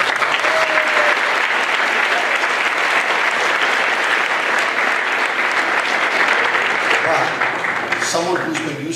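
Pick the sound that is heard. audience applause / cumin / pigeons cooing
audience applause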